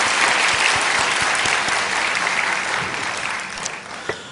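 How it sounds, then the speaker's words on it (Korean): Church congregation clapping after a hymn during a Korean worship service, a full, even round of applause that gradually softens toward the end, with no speech. "우리 다시 한번 박수로 격려하십시다"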